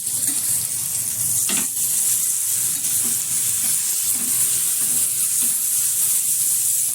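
Pav bread sizzling in butter on a hot pan, a steady close hiss of frying with small crackles and the occasional scrape of turning, lasting throughout without talk.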